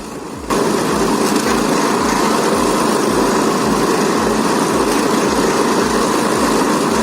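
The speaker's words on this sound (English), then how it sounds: "While the 21-inch chipper's still warming up, these two are already done and dusted." A 21-inch wood chipper engine runs while warming up, starting abruptly then holding a loud, steady mechanical drone with a regular low pulsing beat, close and continuous without talk.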